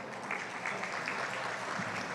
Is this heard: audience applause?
yes